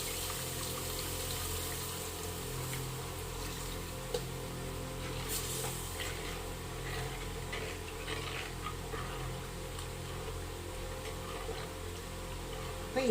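Dissolved tamarind water poured into a clay pot of simmering fish curry. It makes a steady, fairly quiet liquid pour and bubbling wash for the whole stretch, with no talking.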